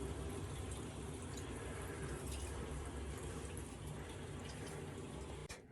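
Water rushes steadily into a hot water tank and up through its hot side manifold as the tank fills, a continuous broad hissing wash that stays even throughout.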